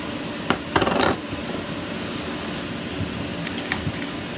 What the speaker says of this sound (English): I am going to stir these up a little bit.